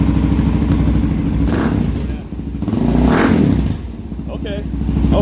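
A Suzuki DRZ 400 SM motorcycle engine with a newly fitted Delkevic exhaust idles with a deep, throbbing rumble and is revved twice in short bursts, loud and close, with a voice briefly audible.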